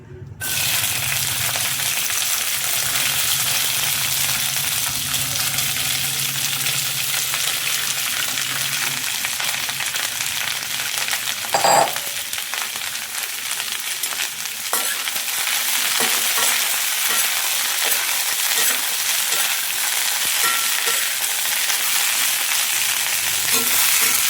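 Cluster beans (gavar) sauté in a little oil in a pan, giving a steady broadband sizzle across the whole stretch, with occasional stirring scrapes and a brief louder clatter midway; no one speaks.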